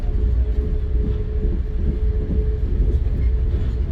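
Passenger train crossing the Hell Gate Bridge en route to Boston, heard from inside the car as a steady, loud low rumble of wheels and rails with a faint sustained hum, no talking.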